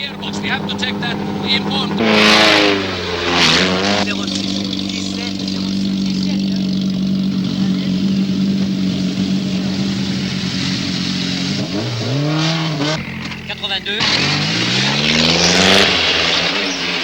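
Lancia Delta HF rally cars race on dirt in the 1989 World Rally Championship. Loud engines roar and rev continuously, with several cars sweeping past close by in quick pitch-shifting passes.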